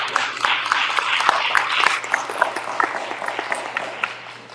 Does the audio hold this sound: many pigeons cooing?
no